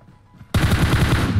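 Rapid automatic gunfire in the PUBG Mobile shooter, a loud continuous burst that erupts suddenly after a quiet moment and keeps rattling without a break.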